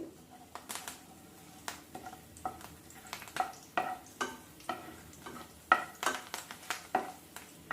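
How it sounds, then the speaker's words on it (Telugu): Cumin seeds, dried red chili and curry leaves frying in oil in a pan for an egg dish, with a soft steady sizzle broken by irregular sharp clinks and scrapes of stirring. "కొంచెం జీలకర్ర కొంచెం వేగనివ్వాలి వీటిని ఇవి కొంచెం వేగినాక కొంచెం కరివేపాకు వేసుకోండి"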